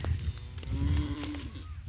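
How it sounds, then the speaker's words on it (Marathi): A cow lowing once in a long, clear moo lasting over a second, close by in a rural farm setting with no talking. "आमची गाय वरडायला लागली बघा"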